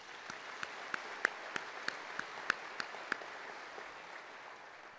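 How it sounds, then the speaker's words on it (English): Scattered, slow applause from a small crowd at a police recruit class graduation, about a dozen distinct claps at an even pace, fading out toward the end. "I think that deserves a round of applause as well."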